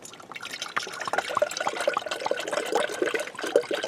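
Coolant poured straight from a jug into the cooling system of a Mercedes-Benz W140 S-Class, giving a steady, close liquid gurgle and splash with irregular glugs throughout, no talking.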